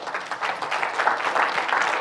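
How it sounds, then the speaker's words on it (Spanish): Steady congregation applause at a church service, a dense wash of many hands clapping continuously, moderately loud with no distinct individual claps. "darle un aplauso al Señor"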